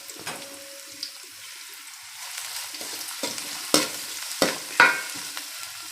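Onions go into hot oil already tempered with mustard seeds and fenugreek, giving a close sizzle with sharp spatters and scraping stirs that grow louder toward the end.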